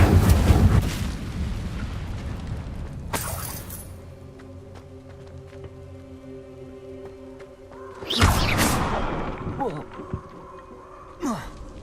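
Incendio fire spells cast in the video game Hogwarts Legacy burst out as loud whooshing flares, a voice with the first, then sustained ringing tones, a second blast around the eight-second mark and a short final flare.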